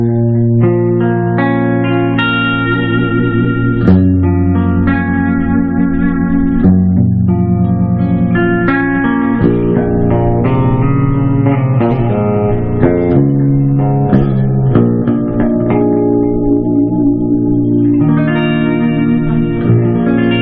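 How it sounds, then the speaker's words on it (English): Sterling JP70 electric guitar played clean on the bridge pickup through a Mesa Mark IV amp with light delay and reverb, ringing chords and melodic notes sustaining steadily and alone. "So we'll start with the bridge pickup clean."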